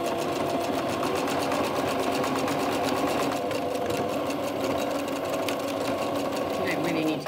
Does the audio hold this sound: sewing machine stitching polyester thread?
yes